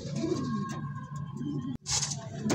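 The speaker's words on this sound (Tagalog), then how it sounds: "Ayan yung ating kalapate, no?" A soft, low pigeon coo repeats close by, followed by a brief rustle and a flutter of wings near the end.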